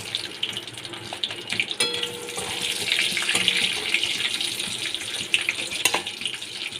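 Black cumin seeds and three green chillies hitting hot oil in a pan, a steady hiss and crackle with scattered sharp pops, moderately close and fairly quiet, with no talking.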